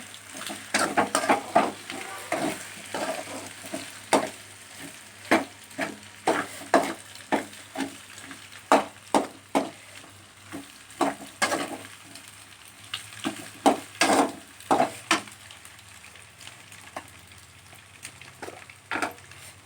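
Egg rice frying in a pan while being stirred, a steady sizzle broken by frequent sharp scrapes and clicks of a spoon against the pan, close and continuous with no talk.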